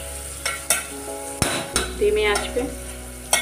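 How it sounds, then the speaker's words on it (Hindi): Green pea dal masala with turmeric and chili fries in a pan over low heat, stirred with several sharp utensil scrapes and knocks over a soft sizzle, and a voice speaks briefly. "हल्दी मिर्चा डाल के अब इसको हम चलाएंगे"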